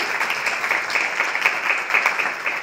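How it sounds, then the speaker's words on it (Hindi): Audience applause at a spiritual open-house discussion session, a moderate, even patter of clapping from a group that rises and falls slightly over a few seconds. "जोरदार तालियां एक बार"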